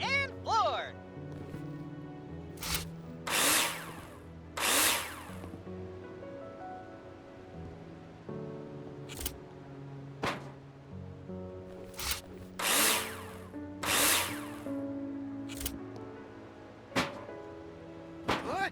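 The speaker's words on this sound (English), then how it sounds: "Now place them in the hologram and screw them in with a drill." Cordless drill driving screws into metal drywall profiles in the construction game Builder Simulator, several separate whirring bursts of a few seconds each over a steady ambient background, close and loud.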